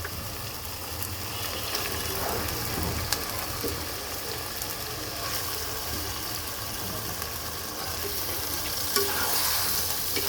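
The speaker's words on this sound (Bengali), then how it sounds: "এখন আমি মাংসটা দিয়ে দেব খাসির মাংসটা" Goat meat dropped into oil-released fried spices for a curry sizzles loudly and continuously, with occasional scraping stirs and clinks close by, no one talking.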